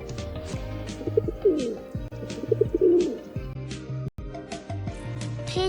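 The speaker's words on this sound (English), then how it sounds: "Pigeon. This is a pigeon." A pigeon coos in repeated low, rounded phrases at close range, with faint chirps and ambient noise around it.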